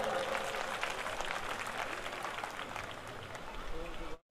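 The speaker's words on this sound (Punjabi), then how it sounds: "ਇੱਕ ਵਾਰੀ ਜ਼ੋਰਦਾਰ ਵਜਾਓ ਤਾੜੀਆਂ" Audience clapping at a Punjabi regional youth and folk festival, a dense, steady roar of many hands kept up for about four seconds before it cuts off sharply, with crowd voices mixed in.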